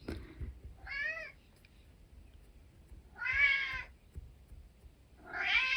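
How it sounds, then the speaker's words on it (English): An indoor cat meows three times at a door, each cry drawn out and fairly close, with quiet gaps between the calls. "It sounds like the cat would like to come in."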